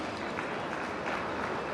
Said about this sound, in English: Let's have a big round of applause for all our speakers